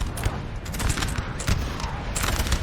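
Continuous dense battle din from Napoleon Total War 3 as artillery fires canister into infantry lines, a steady roar of overlapping crackling volleys and booms with no pauses, loud throughout.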